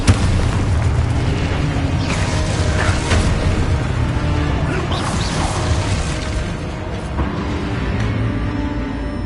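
Spell blasts from the Hogwarts Legacy video game rumble and burst in quick succession, loud and dense with mechanical clatter throughout.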